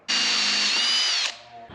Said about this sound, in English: we're gonna drill a hole right in the side